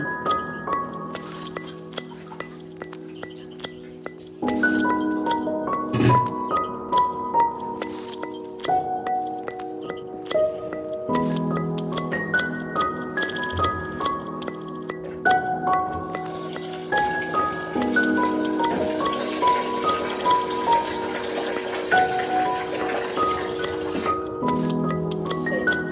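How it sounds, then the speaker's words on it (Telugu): Polished rice being rinsed by hand in water for a fish curry lunch, with steady clinking, sloshing and grain-rubbing close up over faint background music, no voices. "మధ్యాహ్నానికి బియ్యం కడుక్కుంటున్నాము"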